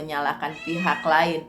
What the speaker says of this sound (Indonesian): Mohon maaf ya, itu kucing saya